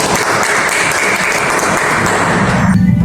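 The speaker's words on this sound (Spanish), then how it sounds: "Le damos la bienvenida con unos aplausos" Students at a public pedagogical institute applaud to welcome a visiting writer, loud dense clapping from a close crowd that stays steady before cutting off abruptly near the end.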